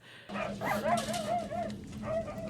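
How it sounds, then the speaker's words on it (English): Dogs whimpering and yipping in the 1982 film The Thing, with a string of rising and falling whines over a low steady hum, fairly close and moderately loud. "The poor puppies."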